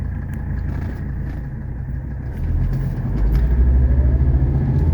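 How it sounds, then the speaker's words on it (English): A 1983 Mercedes 300CD, still warming up, pulls uphill at part throttle; its low engine rumble swells noticeably midway and grows louder and deeper toward the end, heard from inside the car with no talk. "We're gonna get a nice opportunity here to accelerate uphill."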